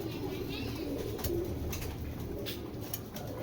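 Caged Giribaz pigeons coo in low, soft murmurs, a continuous close cooing bed with a few brief bright clicks and rustles on top.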